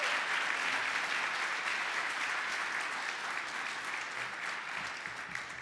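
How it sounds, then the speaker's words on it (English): A Christmas concert audience at St. Oliver's applauds the performers, sustained, even clapping from a large crowd that fades gently toward the end. "Yes, let's give them a big round of applause."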